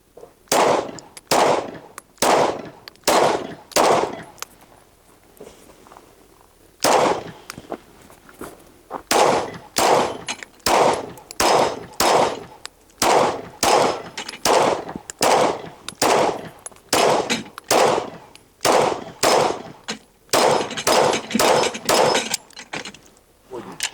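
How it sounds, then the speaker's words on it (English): Rapid strings of Sig Sauer P211 GTO pistol shots, fired with a competition magazine, crack loudly and close in fast bursts of several rounds, with short pauses between strings. "Just going to go ahead and shoot and see how we do."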